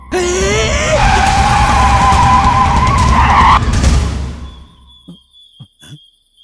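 Car speeding and skidding in a Hindi-dubbed South Indian action movie scene: loud sustained engine roar and tire screech for about four seconds, then cutting to quiet with a few faint knocks.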